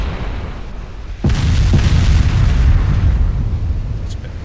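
A 14-inch battleship gun salvo booms in the naval combat game Ultimate Admiral Dreadnoughts, one loud sudden blast with a deep rumbling roar that lingers and slowly fades, a faint pop following near the end.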